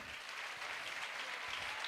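A church congregation claps steadily for a short burst, a dense, even wash of applause heard at a distance with no voices on top.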